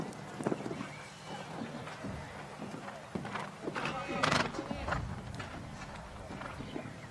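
Horse hooves thud during the riding phase of a modern pentathlon show jumping round at the 2015 world championships, with irregular clip-clop strikes over steady crowd and arena noise while a commentator talks throughout.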